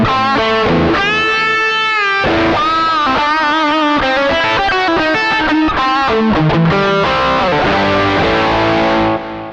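Electric guitar with Seymour Duncan pickups, a Tele-style parts caster, played through a Tech 21 Richie Kotzen RK5 Fly Rig with SansAmp distortion: loud, gritty driven notes and chords ringing and sliding in phrases, alone without talk.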